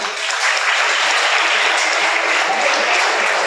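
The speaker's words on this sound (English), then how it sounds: "Good, clap for them." An audience at a school alumni meet claps steadily for first-batch alumni, dense and even applause with no break throughout.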